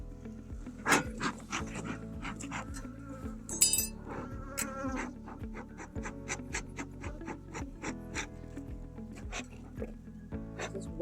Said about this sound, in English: There's one bee that's trying to attack me.